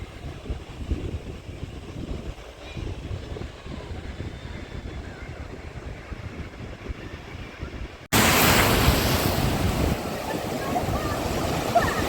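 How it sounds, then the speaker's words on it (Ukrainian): Wind buffets the microphone over a constant rush of Irish Sea waves at Cahore Point, Ireland, growing suddenly louder and harsher partway through as the wind picks up. "Зараз зірвався трошки вітер, виявилися більше хвилі на морі."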